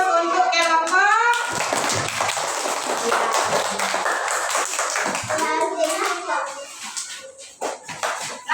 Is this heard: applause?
yes